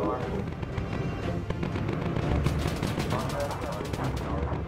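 Bomber gunners in the game Bomber Crew fire machine guns at attacking aircraft, a rapid stream of loud clattering shots that builds toward the end, with a voice talking over the gunfire.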